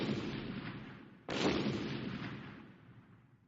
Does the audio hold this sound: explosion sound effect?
yes